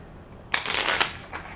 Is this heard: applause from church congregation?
no